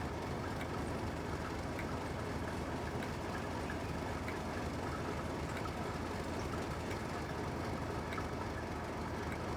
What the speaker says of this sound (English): Oh, there comes another diesel.